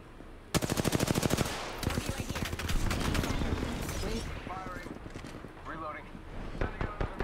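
Rapid automatic gunfire in Apex Legends rattles in a loud close burst, then continues as scattered shots and impacts under a voice talking.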